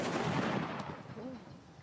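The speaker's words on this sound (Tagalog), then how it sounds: "Maganda itong paputok, guys." A firecracker explodes in a fireworks video game, a loud, sharp boom that decays over about a second, with a faint voice briefly following.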